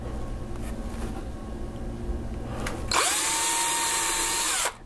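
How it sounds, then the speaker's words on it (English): A power drill bores a pilot hole while a multi-colour T-shirt printer is being built, whirring up sharply at about three seconds and running steadily and loudly for nearly two seconds before stopping, after a stretch of quieter workshop noise. "I first drilled a pilot hole,"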